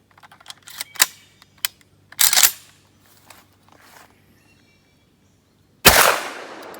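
Two sharp, loud blasts from a 28 gauge shotgun loaded with Winchester AA hulls, HS6 powder, a Claybuster wad and number 4 buckshot with buffer, fired at a range, each ringing out amid light clicks and handling noises.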